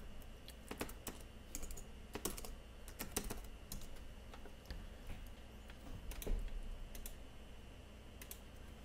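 Computer keyboard typing: quiet, irregular bursts of key clicks with short pauses between them, close and faint, with no voice over them.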